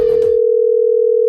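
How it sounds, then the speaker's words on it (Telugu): A steady telephone dial tone hums loud and unbroken for over a second after a brief burst of voice at the start, heard while a phone call is being placed. "నేను ఆడికి ఫోన్ చేస్తాను, ఒక నిమిషం ఉండు."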